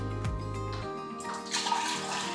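Water pours into a kombucha fermenting jar, a short low gurgling fill followed by a brighter splashing stream, faint and close, with no talk.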